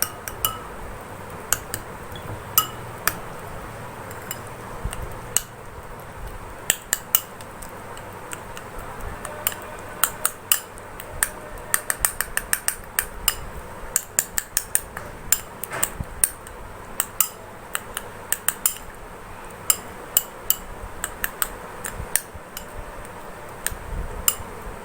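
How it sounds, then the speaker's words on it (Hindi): A spoon stirs honey with other ingredients in a bowl, giving repeated light clinks and ticks against the bowl that come in irregular bursts and stay close and fairly soft, with no talking. "ये मैं मिक्स करता हूँ।"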